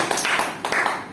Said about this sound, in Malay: satu tepukan untuk Ahmad Tian.